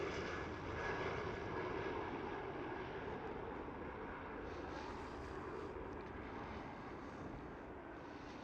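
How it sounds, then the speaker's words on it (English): A KLM Cityhopper Embraer E175 jet at Schiphol gives off a broad, steady engine roar that holds at a strong level the whole time and eases slightly toward the end. "And next one up is KLM City Hopper again,"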